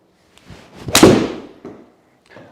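Golf club striking a ball on a 150-yard shot, a single sharp crack with a short ringing decay, close and loud, followed by faint rustling.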